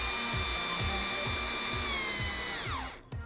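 A power driver runs a 1.5-inch SPAX T-Star Plus screw in to install a plantation shutter, a loud steady motor whine with a rhythmic ratcheting thump beneath, winding down sharply near the end, up close with no talk.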